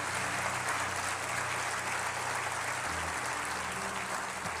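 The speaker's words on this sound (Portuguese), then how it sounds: "Aquele aplauso assim." Sustained applause from a large church congregation, dense and even throughout, heard from within the room.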